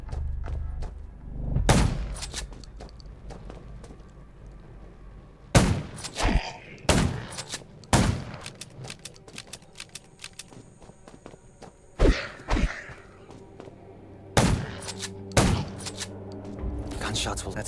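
Scattered gunshots in the zombie survival video game Undawn crack out irregularly, some in quick pairs, over a low background rumble with occasional thuds and faint movement.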